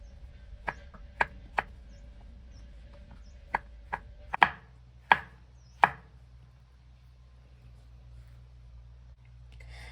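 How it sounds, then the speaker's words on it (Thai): A knife chops mushrooms on a cutting board in a series of crisp, separate knocks, irregularly spaced, with a few louder cuts in the middle of a quiet room. "เราก็จะหั่นเป็นชิ้นๆ"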